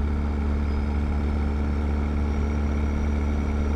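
An old heavy truck in American Truck Simulator pulling up a mountain grade, a loud, steady low engine drone with exhaust rumble and a faint high gear whine, continuous and unbroken with no talk.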